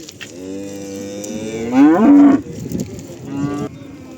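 A calf at a livestock market moos loudly nearby, one long drawn-out bellow that swells and then breaks off, followed by a shorter, quieter moo.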